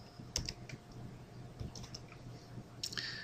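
Fingers tap a computer keyboard while entering an Excel formula, a few quiet scattered keystroke clicks separated by pauses, faint against a low steady room hum.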